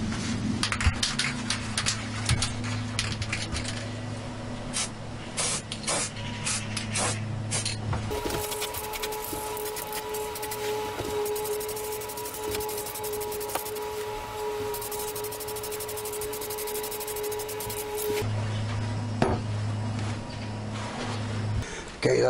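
Primer is sprayed from a can onto a homemade metal rack plate in a shed, a steady near hiss in bursts with a central continuous stretch, and faint background hum between sprays.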